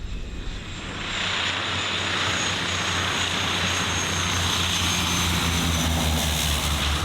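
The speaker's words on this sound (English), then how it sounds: "we're waiting for a plane to land somewhere here" A small plane's propeller engine drones steadily and loudly as it comes in to land at a safari camp airstrip in Meru National Park, Kenya, swelling after the first second and then holding a constant roar, with no voices.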